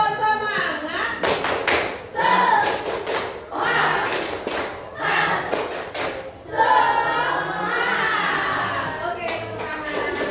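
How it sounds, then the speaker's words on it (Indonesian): A group of people claps out a rhythmic spirit clap in a classroom or training session, with bursts of sharp clapping and cheering voices alternating with spoken prompts. "Tepuk semangat."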